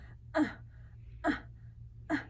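A voice imitates an infant's grunting while breathing, giving three short throaty grunts at an even pace, close and fairly quiet over a low steady hum.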